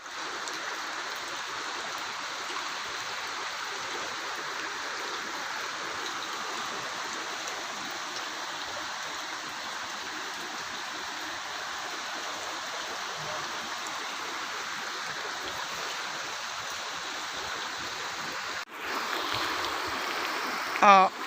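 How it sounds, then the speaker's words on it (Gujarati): Floodwater from an overflowing village lake gushes over a check dam, a loud, continuous roaring rush that stays steady and close, with a brief shift near the end. "આ પાણી ધોધમાર ચેકડેમના ઉપરથી પાણી આવી રહ્યું છે"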